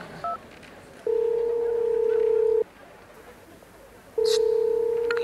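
Telephone line tones sound while a number is dialed on a novelty phone: a brief beep, then two long steady electronic tones of about a second and a half each, separated by a quiet pause, clear over a soft background hiss.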